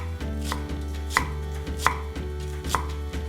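Two medium onions are chopped with a knife on a board for dal, a steady run of sharp, evenly spaced chops that stay close and clear with no talking.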